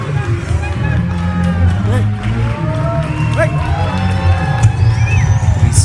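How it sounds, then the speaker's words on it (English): A lucha libre wrestling crowd cheers and whoops after a match victory, a loud sustained roar of shouting voices with high whistles and excited calls rising over it. "the crowd is appreciative of this victory"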